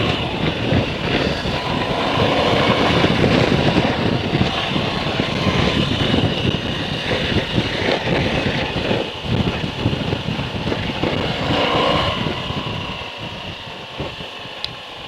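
A Moto Guzzi V85TT motorcycle engine pulls hard through third gear, a steady loud drone with rising rumble that holds for most of the stretch and eases slightly near the end.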